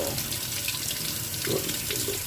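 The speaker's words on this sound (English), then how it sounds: "I'm gonna rinse off the asparagus" A kitchen water tap runs steadily while asparagus is rinsed under it, a continuous close splashing hiss with faint shifts as the stalks move through the stream.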